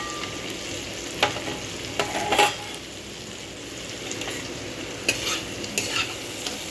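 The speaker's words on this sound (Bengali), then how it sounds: "এরপর এই বাদামগুলো আমি দিয়ে দিলাম।" Peanuts being added to a frying pan and stirred while cooking sabu khichuri, a low steady sizzle under scattered sharp scrapes and taps of a utensil against the pan.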